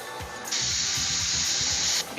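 Spray paint hisses from a can onto panda tabletop miniatures in one steady burst of about a second and a half, loud and close.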